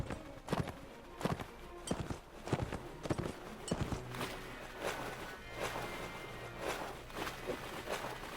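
Horses galloping in the Mount and Blade: Warband video game, a run of close, uneven hoof thuds that keep going through the stretch with no talking over them.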